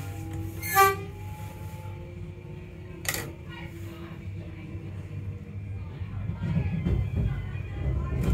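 Melbourne trams roll through a city tram square, with a low steady rumble and two short bright chiming warning tones near the start, and rising traffic noise toward the end.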